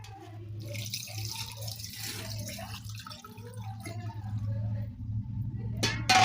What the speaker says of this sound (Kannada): ಇದಕ್ಕೆ ಇನ್ನೊಂದು ಸ್ವಲ್ಪ ನೀರು ಹಾಕೋತೀನಿ ರೀ ನಾನು